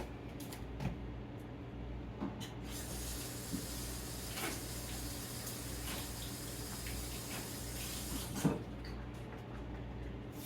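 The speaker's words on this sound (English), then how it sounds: "I'm going to take this to the sink." Water runs steadily from a tap into a sink, a continuous hiss and splash with a low hum behind it and no talking.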